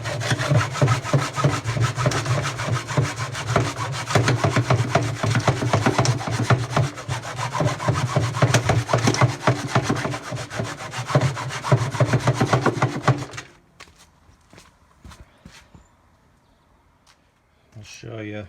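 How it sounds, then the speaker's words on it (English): Someone saws through the drum housing of an Indesit washing machine to reach the bearings, a dense, steady rasping stroke that continues for about thirteen seconds and then stops abruptly, with quiet handling sounds after. "what I'm gonna have to do is cut through as best as I can"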